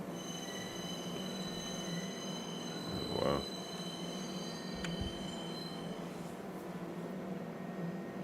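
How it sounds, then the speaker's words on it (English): A train in Star Citizen rolls through a city with a steady rumbling drone, a brief wheel squeal partway through and faint tonal hums, while a voice briefly reacts. "We're gonna go through the city on the trains."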